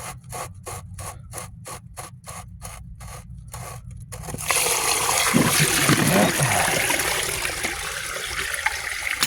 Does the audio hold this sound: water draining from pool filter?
yes